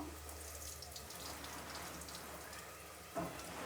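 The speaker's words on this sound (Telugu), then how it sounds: "ఇప్పుడు ఈ నీళ్ళంతా వంచేద్దాము" Water is poured off salted raw chicken into a sink, a faint, continuous splashing trickle with a small thump near the end.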